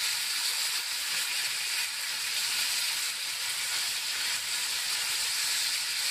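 Pork browns in a hot pan for Southern-style collard greens, giving a steady, close, loud hiss of frying fat without break.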